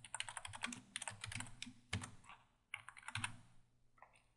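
Code being typed on a computer keyboard, a quiet but busy run of quick key clicks in bursts with a brief pause near the middle and no speech.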